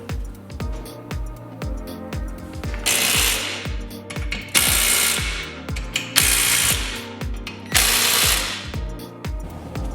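A ratchet wrench clicks in quick repeated bursts, pausing between strokes, as bolts are snugged down on a rear disc brake caliper bracket during a 1989 Honda CRX Scarebird conversion; close and loud, no talking.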